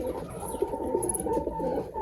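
Pigeons coo in a loft, a few soft, repeated throaty calls close by over a low background hum.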